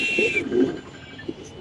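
White Spanish pigeons kept in a coop with eggs in Mirpur, Dhaka, give soft, low cooing calls from close by, a few short murmured coos with a faint higher chirp at the start.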